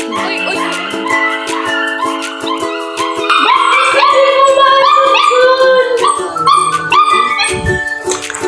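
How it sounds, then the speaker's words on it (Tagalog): A dog named Tukmut barks, yips and howls in rising, wavering cries, loud and close, over a steady backdrop of sustained tones during a New Year gathering. "yung aso mong si Tukmut"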